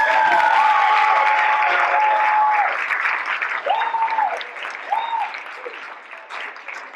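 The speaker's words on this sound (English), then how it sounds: "please give the parents that came out a round of applause" A crowd at a graduation ceremony claps in sustained applause, loud at first and gradually thinning out, with a few whistles cutting through.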